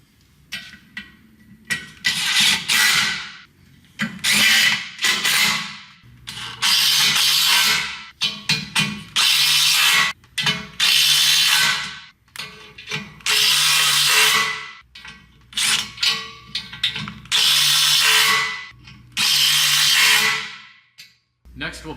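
A power driver sets number 12 by 3/4 fasteners into a sunroom muntin, sounding as repeated short loud whirring bursts separated by brief pauses, close by.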